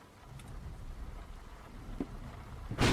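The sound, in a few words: thunderstorm with thunder and rain in a video game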